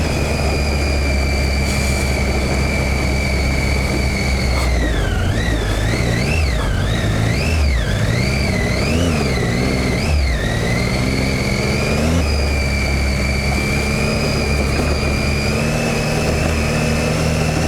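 A big motorcycle engine riding through a dry desert wash drones steadily and close throughout, its pitch rising and falling in wavering swells as the rider works the throttle, with no talking.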